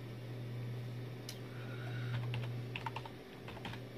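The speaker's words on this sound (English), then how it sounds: "the next thing you've got to do is type" Keys clatter on a computer keyboard at a desktop while OpenBSD 6.1 is being installed, a steady run of close taps over a constant low fan hum, with no talking.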